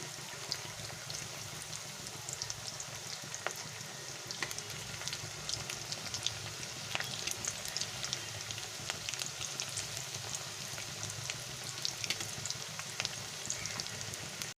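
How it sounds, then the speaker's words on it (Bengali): Stuffed kakrol (spiny gourd) kebabs fry gently in oil, a soft steady sizzle with faint scattered crackles and pops, fairly quiet and without talk. "কাবাবগুলো আমি একটা সাইড ভাজা হয়ে গেছে একটা সাইড উল্টে দিচ্ছি"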